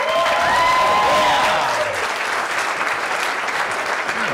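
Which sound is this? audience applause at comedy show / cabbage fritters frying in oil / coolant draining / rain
audience applause at comedy show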